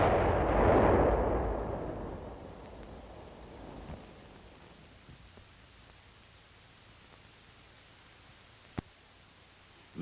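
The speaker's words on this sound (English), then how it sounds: "Then the charge is fired." A demolition charge set off with a blasting machine to destroy an enemy earthen tunnel in combat: a single loud, deep blast that rumbles and slowly fades over several seconds, followed by quiet ambience and a brief sharp crack near the end.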